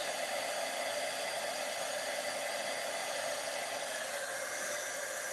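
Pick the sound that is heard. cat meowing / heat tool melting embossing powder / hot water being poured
heat tool melting embossing powder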